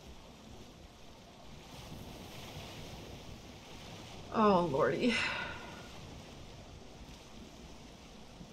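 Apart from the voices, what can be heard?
ocean waves in the video game Valheim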